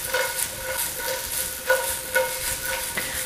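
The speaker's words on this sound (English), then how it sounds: "So toss them to coat them in the oil" Fresh snow peas tossed in oil in a hot pan, a steady sizzle with the clatter of a stirring utensil and occasional louder scrapes, close and continuous.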